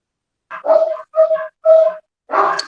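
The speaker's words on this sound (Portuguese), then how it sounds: "Eu não posso falar muito por causa do cachorro tá latindo ali" A dog barks in four separate bursts, each a short harsh woof with a tonal yelping edge, fairly close and loud, with no talk over it.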